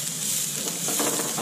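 Minced garlic poured into a hot pan for egg fried rice sizzles loudly and continuously up close, with a brief rattling, scraping texture partway through.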